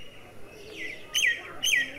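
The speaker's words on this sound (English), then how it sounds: "Myna, M-Y-N-A, myna." Myna bird calling: two sharp, bright whistled chirps repeated about half a second apart, preceded by a softer descending note, clear and fairly close against a quiet background.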